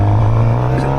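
A 2025 Suzuki GSX-R750 motorcycle engine revs loudly and close, a steady high-pitched roar whose pitch climbs slightly for about a second.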